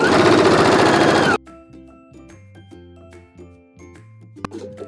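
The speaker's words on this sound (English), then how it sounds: "now we're gonna go ahead and sew a 1/2 inch seam" A sewing machine stitches a half-inch seam on an upcycled 1980s jacket being turned into a dress, running loud and close for just over a second before stopping, leaving quiet tonal background sounds.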